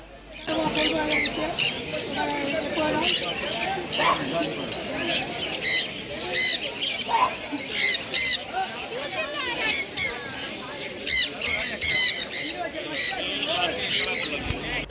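Lovebirds at a busy Kolkata street bird market give rapid high chirps and squawks in repeated bursts, close by, over a steady crowd murmur and a person talking.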